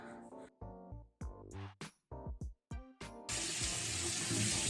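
A bathroom tap runs to rinse off face scrub. The water starts after a few scattered knocks and then streams steadily and closely until the end.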